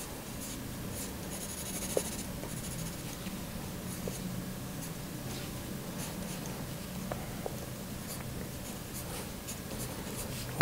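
A pen scratching steadily across paper while drawing a simple caricature of a family shopping, close and continuous with faint small taps, no voices.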